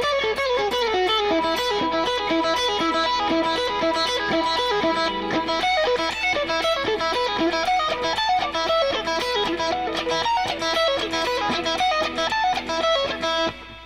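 Distorted electric guitar plays a fast, dense descending lead lick, loud and continuous with busy harmonic runs for about fourteen seconds, no voices.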